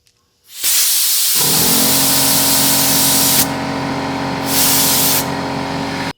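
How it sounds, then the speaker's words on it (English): A loud, steady blast of compressed air from an air compressor blowing out an arrow shaft, hissing continuously for several seconds, briefly easing and then surging again, close by with no talking. "However, if you have an air compressor,"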